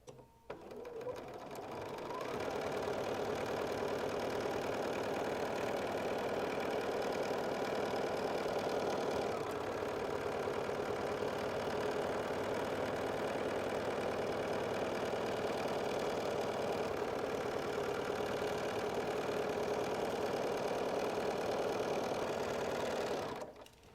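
A sewing machine runs steadily for about twenty seconds, stitching a quilt seam on a six-panel quilt, a loud, continuous close whir that starts and stops cleanly with no talking over it.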